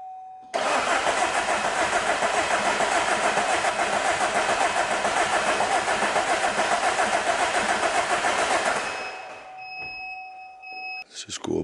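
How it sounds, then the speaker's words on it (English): A 2010 Vauxhall Insignia 2.0 CDTI diesel with a mass air flow fault cranks over, the starter churning loudly and steadily for about nine seconds before cutting off, leaving faint electronic beeps and small clicks. "Let's give it a crank."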